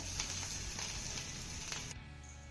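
Green chillies sauté in a pan with a steady, soft sizzle and frying crackle, faint and continuous, easing slightly near the end.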